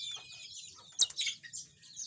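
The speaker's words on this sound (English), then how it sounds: "This is a canary. This is an amazing bird." A domestic canary sings quietly from its cage in short, high chirps and trills, with a brief brighter burst partway through and a faint low murmur underneath.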